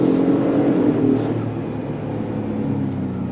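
A 2024 Ford F-150 PowerBoost hybrid pickup pulls away under throttle with a steady low engine hum and whir, loudest at first and then settling, with no talking.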